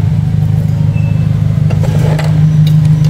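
A Nissan Livina fitted with a new aftermarket bass-heavy exhaust runs loud and close, a deep throbbing drone that swells slightly as the throttle is blipped near the end.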